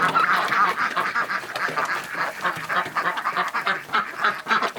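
Farmyard ducks and geese let out to free range quack and honk in a dense, continuous flock chorus, close and fairly loud, with turkeys and a rooster also among the birds.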